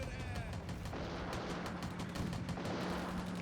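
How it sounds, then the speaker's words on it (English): A Maxim MG08 machine gun fires in the Combat Mission World War II game, with rapid rattling bursts and booming battle noise at moderate distance amid steady background din. "Machine guns are doing some work where they are. I think from the graphic, that looks like it's basically an MG08."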